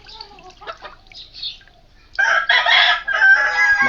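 A hen with her chicks makes soft, scattered clucks and chirps at first, then a louder, sustained stretch of overlapping fowl calls close by.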